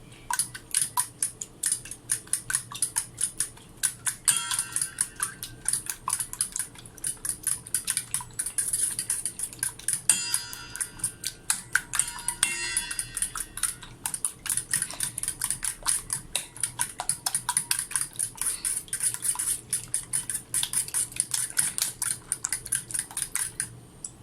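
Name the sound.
stirring eggs so yolk mixes with egg white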